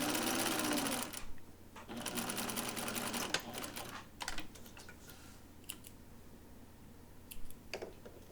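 A sewing machine stitches a half-inch shoulder seam on a blouse, running in quick rhythmic bursts separated by short pauses, close and clear with no talking.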